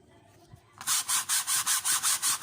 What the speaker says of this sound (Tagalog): gagamitan ko ito ng liha or sandpaper